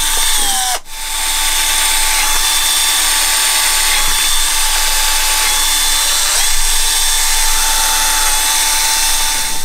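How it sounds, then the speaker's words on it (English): A power drill bores a hole into a project box for a 12 V power junction build, running loud and steady close by for several seconds after a short sharp start, with no one speaking. "Before I do the next hole, I just want to check the size of this drill bit against the insert."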